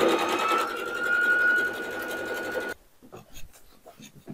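A sewing machine stitching around the brim of a fabric bucket hat, a steady close whirring run of rapid needle strokes for under three seconds, then it stops and quiet handling noises follow.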